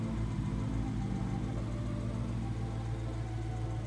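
A 2017 Lexus RC F luxury sports car on Niche Misano road wheels idles close by, a steady deep rumbling engine note with a faint rhythmic pulse and no other sounds.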